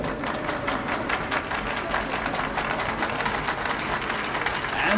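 In Metro Last Light Redux, a crowd at an exhibition show claps and cheers in a continuous, dense wash of applause, with voices mixed in beneath the clapping.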